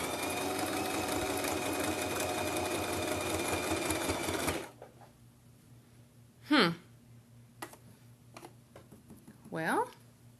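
Sewing machine stitching a buttonhole runs in a fast, steady mechanical chatter for about four and a half seconds, then stops, followed by quieter handling sounds and a person speaking briefly.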